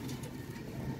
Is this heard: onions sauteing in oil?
no